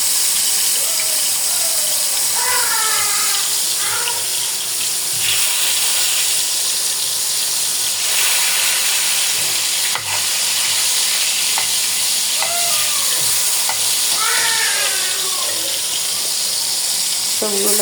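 Tomatoes fry in hot oil, giving a loud, dense, continuous sizzle close up that holds steady throughout, with faint chirping sounds in the background and no one speaking.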